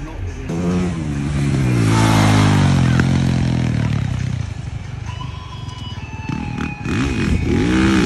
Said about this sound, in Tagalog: Yamaha YZ 450.